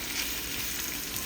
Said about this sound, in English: So I'm gonna fry this in 2 batches.